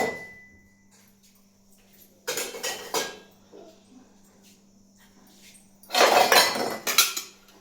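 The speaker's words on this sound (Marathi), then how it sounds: "आता भांडी लावते" Bursts of dishes and pots clattering, loud and close, in two busy spells separated by a quieter stretch with a low steady hum underneath.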